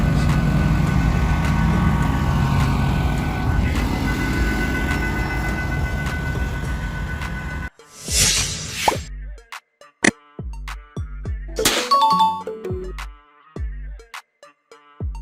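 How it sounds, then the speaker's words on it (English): A firefighting train fitted with water tanks and pumps rumbles past in a loud, steady broadband roar, then gives way to a scattered series of sharp plops and clicks. "Fire train."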